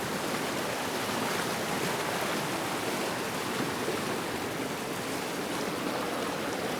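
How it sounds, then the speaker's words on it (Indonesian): A river flows in a steady, even rush of broadband water noise, unbroken and moderately loud throughout, with no voices. "Terlihat seperti sungai ya. Yang alirannya bisa saja lebih deras dari ini jika cuaca berubah."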